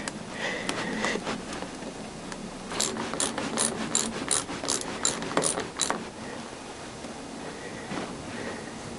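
A ratcheting tool clicks in quick bursts while screwing parts back onto the front brakes of a Triumph Tiger 955i motorcycle, close mechanical ticks with some handling rustle between them and no talking.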